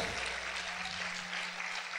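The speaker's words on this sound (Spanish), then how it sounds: "Vamos a aplaudir fuerte al Señor en esta hora." A church congregation applauding during worship, a dense continuous roar of clapping held steady and fairly loud throughout the short stretch.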